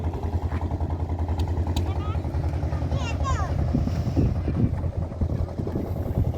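A motor trawler crosses a river near a land border port, its low engine drone running steadily and close, with wind buffeting the microphone and a person talking over it.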